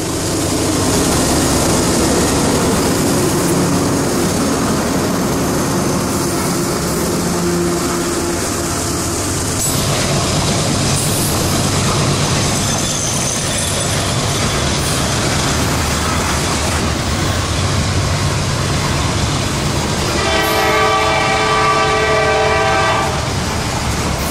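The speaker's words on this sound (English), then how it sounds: "He's got those two GEs wide open to lug that heavy train up and out" Two GE diesel locomotives roar loudly at full throttle as a heavy train rumbles past on an upgrade out of Florida's St. Johns River Valley, wheels clattering on the rails, with a horn sounding toward the end.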